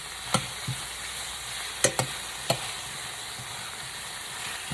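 Broccoli, tomato and onion stir fry sizzling in a hot pan, a steady frying hiss with a few sharp clacks of stirring at irregular moments, close and moderately loud with no talking.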